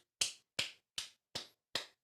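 Five sharp, evenly spaced hand claps sound close and crisp, each a short percussive crack with a quick decay and silence between, no voices over them.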